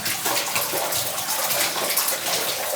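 Mains water pipe burst below floor level, gushing and spraying hard into a flooded space, a loud continuous rushing torrent with no breaks and no voices.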